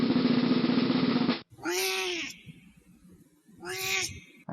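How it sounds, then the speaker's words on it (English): A cat gives two distinct meows a couple of seconds apart, close by and fairly clear, after a burst of harsh noise at the start. "That cat gets around."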